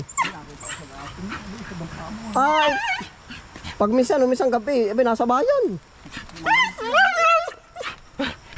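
A dog whimpers and yips in high, wavering cries, with occasional barks, close by and repeated through the scene, mixed in with people talking in Tagalog outdoors.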